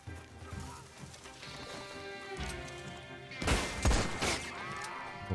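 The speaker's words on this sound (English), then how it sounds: "let's go in with the pistol" Pistol gunshots in Red Dead Online, several sharp cracks bunched around the middle of the clip, rising out of a dense game soundscape with music and hoofbeats.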